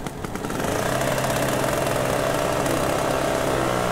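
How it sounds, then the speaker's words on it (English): In the Farm Simulator 2015 game, a small two-stroke starter engine on an antique tractor buzzes into life and settles into a steady, rapid idle, loud and close with a constant vibrating drone. "It has a little two-stroke engine that you start up, and that starts the diesel engine."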